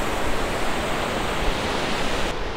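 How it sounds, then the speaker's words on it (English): Rushing river rapids roar steadily and loudly, a constant broadband churn of water close at hand. "Here we are at the rapids. Yay! Can you hear them?"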